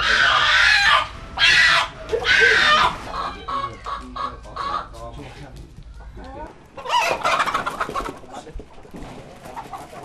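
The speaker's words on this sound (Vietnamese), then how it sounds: "Cùng mục sử thị loại gà đen mặt quỷ với những đặc điểm sinh học và tập tính sinh hoạt khá thú vị này" Black chickens of the 'devil face' breed cluck and call in close bursts, with a rooster-like crow mixed in amid barnyard noise, loud at first and again toward the end.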